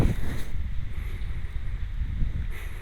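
Steady low buffeting of wind on a headphone microphone at a cemetery in Grybów, a constant rumbling roar with a faint airy hiss on top and nobody speaking.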